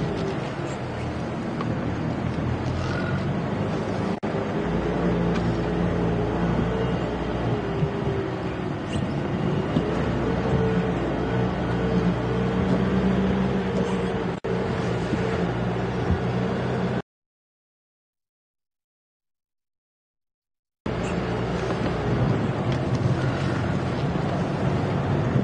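A safari vehicle at Djuma Game Reserve drives along a dry riverbed, a constant low engine rumble with rattling and wind buffeting the microphone, broken by a few seconds of silence before the drive resumes.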